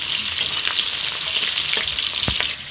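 Whole, large cut onions dropped into hot oil for a Bengali chicken curry, a steady close sizzle and crackle of frying with a few sharp spits and bursts near the end, no voices.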